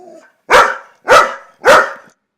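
A dog barking sound effect plays three sharp, loud barks at an even pace, each one clear and close, after a faint brief sound at the start.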